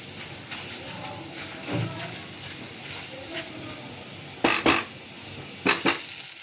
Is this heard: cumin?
yes